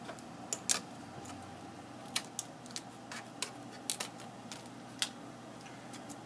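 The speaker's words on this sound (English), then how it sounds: "trim with these scissors the undercut away from the model" Scissors trimming a vacuum-formed plastic dental tray around the periphery of a model: a sparse, irregular run of crisp snips and ticks, fairly quiet and close, with no talking.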